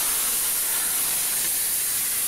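A red-hot 1000°C knife plunged into Coca-Cola gives off a loud, continuous steamy hiss and fizz, broadband and unbroken throughout with no voices.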